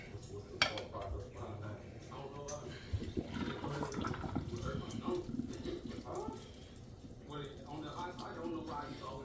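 Pasta cooking water is poured off into a kitchen sink, a faint continuous splashing rush with light clinks of a pot, under quiet talking.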